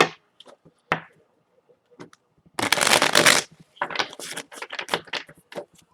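Tarot cards shuffled by hand during a reading: a few soft taps and flicks, then a loud riffling burst followed by a run of quick, crisp card slaps and snaps.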